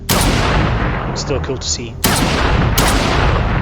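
Grenades explode in a zombie-filled server of a video game. Loud, close blasts arrive at the start and twice more near the end, each with a crackling rumble that rolls on after it. Someone talks briefly between the blasts.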